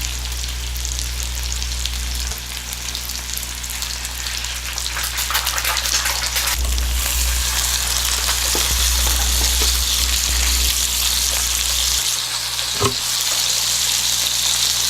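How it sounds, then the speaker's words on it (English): Egg frying sunny side up in a pan for a burger, with a steady, close hissing sizzle and popping crackles that swell and fade slightly over about fifteen seconds, no voices. "So let's go ahead and get our egg cooked."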